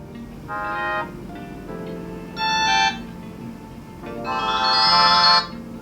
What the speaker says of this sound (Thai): notification tone ก็คือการแจ้งเตือนนะครับ อ่า ผมให้เสียงนี้แล้วกันนะครับ